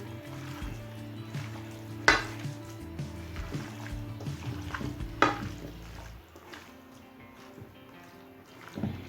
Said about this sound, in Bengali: চিকেনটা ভালোভাবে মেখে নিলাম